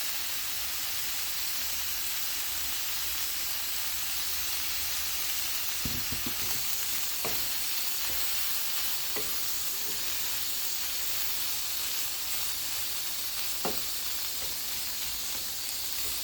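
Taco meat seasoned with garlic salt and black pepper frying in a pan, giving a continuous close sizzle and hiss with a few scattered soft pops and clicks throughout.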